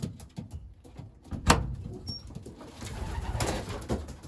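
Young racing pigeons coo inside a loft, soft repeated low calls close by, mixed with a sharp knock around the middle and rustling movement, with no talking.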